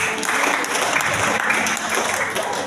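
A church congregation at a revival service applauds: dense, continuous clapping from many hands, steady and fairly loud throughout with no pauses.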